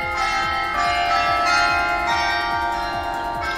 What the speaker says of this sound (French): On va entendre le carillon.